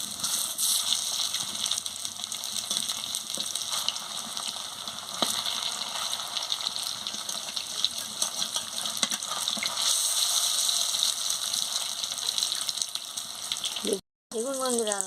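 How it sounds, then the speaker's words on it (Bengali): Food frying in hot oil in a pan gives a steady, close crackling sizzle that runs continuously, broken only by a brief cut near the end. "লাল লাল করে ভাজা হয়ে গেছে"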